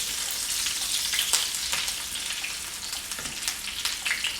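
Eggplant slices browning in a pan, a steady bright sizzle of frying with small pops and crackles throughout, close and moderately loud, with no talking.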